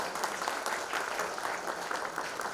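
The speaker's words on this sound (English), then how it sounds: "can we please have a huge round of applause?" Audience applause fills the room, a steady dense wash of clapping that holds at an even, fairly loud level throughout with a faint voice underneath.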